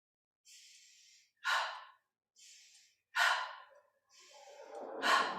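Slow, soft nasal inhales alternate with sharp, forceful exhales during yoga breathing, a clear rhythmic pattern of three breath pairs, close and alone without talk.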